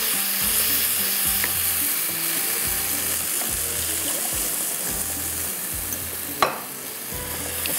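Methi lassi mixture being stirred steadily in a cooking pot, making a rhythmic repeating scrape and swish with a continuous sizzly hiss beneath and a brief sharp clink near the end.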